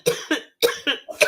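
A person coughs four times in quick succession, close and dry, in short bursts with brief gaps between them.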